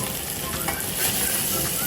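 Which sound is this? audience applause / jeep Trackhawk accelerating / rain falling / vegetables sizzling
vegetables sizzling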